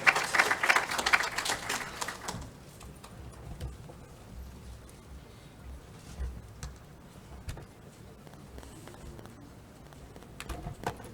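A conference audience gives a short burst of dense applause for a medical talk on femoral defects. It fades after about two seconds into a quiet room with faint scattered taps.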